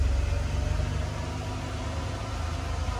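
A Mercedes 300E engine runs at elevated RPM during O2 sensor diagnostics, a steady, moderately loud hum with a low rumble and a slight dip midway, heard close with no talking.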